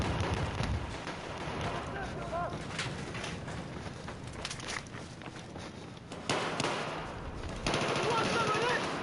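Rapid machine gun bursts rattle through a video game firefight as a player is mowed down, with scattered single shots and faint voices mixed in at mid distance.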